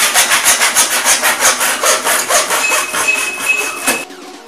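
A 1.25 inch PVC pipe is hand-sawn in steady, rhythmic back-and-forth strokes for about four seconds, close and loud, ending abruptly with no talk.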